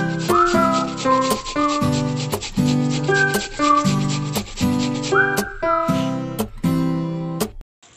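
Cassava root grated by hand against a grater for pancakes, a close rhythmic series of rasping scrapes, each stroke followed by a sharp knock, repeating steadily for several seconds with no voices.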